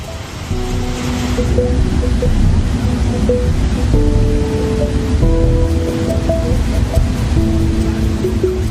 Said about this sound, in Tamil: இந்தியாவின் நயாகரா என்று அழைக்கப்படும் சித்திரகூட் அருவி ஆர்ப்பரித்து கொட்டும் காட்சி